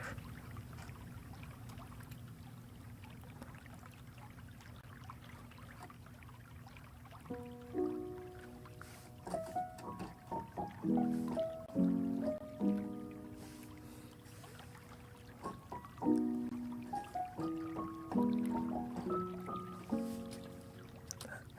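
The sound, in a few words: river water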